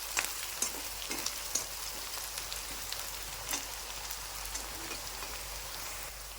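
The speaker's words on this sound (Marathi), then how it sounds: "अशा पद्धतीने कांदा तळायचा आहे आपल्याला" Onion frying in a pan, a soft steady crackle with scattered sharp pops, like light rain, constant and fairly quiet, without talking.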